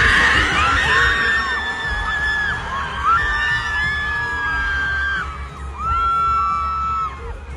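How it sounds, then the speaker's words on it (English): A large concert crowd in a Buenos Aires stadium screams and shrieks continuously, loud and dense, with high piercing voices rising and falling in waves over a low rumble. "The crowd screamed."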